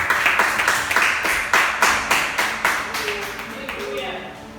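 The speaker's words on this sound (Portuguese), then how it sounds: "Aplauda os céus bem forte." A church congregation at Igreja Sarando Almas in Duque de Caxias claps together in a steady, rhythmic beat of loud bursts that fill the room, tapering slightly toward the end.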